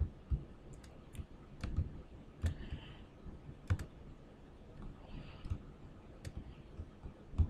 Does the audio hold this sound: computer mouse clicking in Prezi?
yes